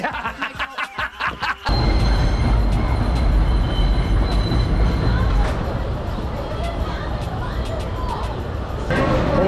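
An original 1927 roller coaster train at Coney Island roars along its track in a loud, continuous rush, after a few rhythmic clacks at the start, with excited voices faintly under it.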